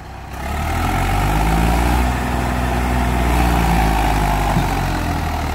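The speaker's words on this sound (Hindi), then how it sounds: "सिप्सन का इंजन है इसमें, 39 HP वाला, और बढ़िया जोर है ट्रैक्टर में।" A Farmtrac 380 tractor with a 39 HP Simpson diesel engine runs steadily at close range, a loud, continuous low rumble with a deep throbbing idle that holds level throughout, with no talk over it.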